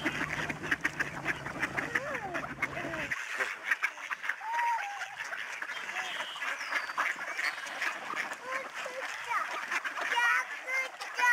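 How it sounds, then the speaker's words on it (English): Ducks quack in a lively chorus with splashing and chatter at George Reifel Migratory Bird Sanctuary in Delta; voices talk over the quacking throughout. "Lots of ducks."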